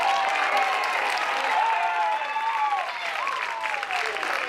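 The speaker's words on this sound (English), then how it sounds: "We're going to give him another big round of applause." Audience applause at a junior high academic awards ceremony, sustained even clapping from a crowd, with faint cheering and whistles rising over it midway.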